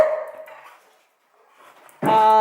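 A pet dog named Ollie makes a whimpering bark, goes quiet for a moment, then lets out a louder, sharper bark up close.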